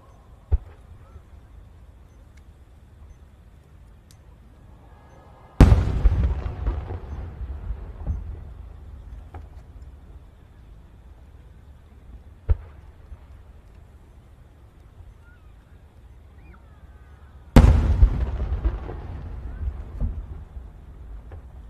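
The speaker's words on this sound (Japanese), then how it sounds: "続いては7号玉の対決です。" No. 7 firework shells at the Sanriku fireworks competition, heard as two heavy booming bursts spaced well apart, each followed by a long rumbling, crackling decay, with a faint thud between them.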